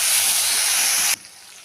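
Spice paste of ground coriander, cumin and Kashmiri chili powder mixed with water hits hot oil with a loud, bright sizzle for about a second, then the hiss drops away to a softer frying crackle.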